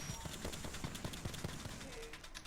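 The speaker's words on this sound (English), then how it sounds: "Stand back, knuckle clusters firing." Fuse's knuckle clusters firing in Apex Legends, a rapid stream of small popping bursts in an even rhythm, moderately loud and continuous for a couple of seconds.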